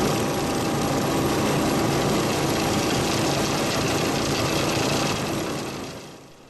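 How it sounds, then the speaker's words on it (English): A large Keene 210 series dry washer runs steadily, its engine droning and vibratory hopper buzzing in a loud, constant, dense rumble that fades slightly at the end. "Look how well that vibratory hopper is working"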